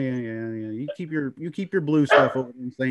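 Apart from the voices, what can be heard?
Husky dog barking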